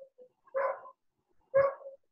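A dog gives two separate, clear barks about a second apart, each short and fairly close, with quiet between them and no talking.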